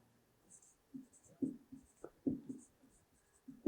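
Chalk or marker writing a sentence on a board, heard as soft, close, irregular scratchy strokes in short bursts, with faint breathy whispering underneath.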